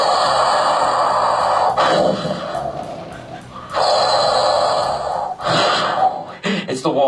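A voice mimics walls breathing on an acid trip with loud, drawn-out rasping inhales and exhales, repeated several times up close, broken by brief pauses.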